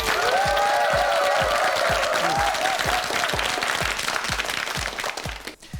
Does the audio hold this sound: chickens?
no